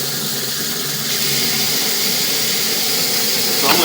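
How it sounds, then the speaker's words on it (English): Water rushes through a sewer pipe, pushing an inspection camera along, in a steady loud hiss and gurgle that runs without a break. "So I'm going to turn the mic off here so you don't have to hear that water flowing"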